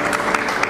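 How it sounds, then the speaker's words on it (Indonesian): A brief burst of dense clapping from a church congregation during a sermon, loud and even. "Kita tepuk tangan dulu buat Tuhan."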